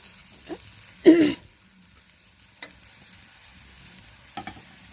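Dried hilsa fish in gravy in a pan: a brief spoon scrape and stir stands out over a faint simmering sizzle, with a few softer clinks around it.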